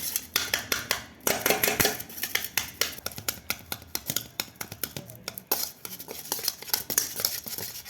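Softened butter for cake-decorating cream is beaten in a bowl, giving fast, steady scraping and clinking of a utensil against the bowl, close and fairly loud throughout, with no talk.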